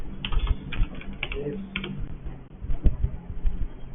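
Keys on a computer keyboard are typed in quick irregular bursts of close, sharp clicks, with brief pauses between runs.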